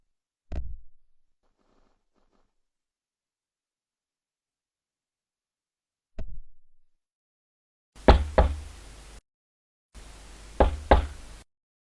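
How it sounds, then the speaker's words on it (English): Knocks on a door sound in separate bursts: a single sharp rap, a long silence, another rap, then two louder clusters of rapid knocks near the end, with no voices. "No good knocking."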